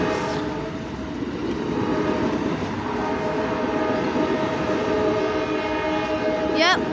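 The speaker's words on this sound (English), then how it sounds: "Nice K5LA horn." An Amtrak Sunset Limited passenger train passes, its K5LA horn sounding a loud, sustained chord over the rumble of the train, with wheels and cars running steadily throughout.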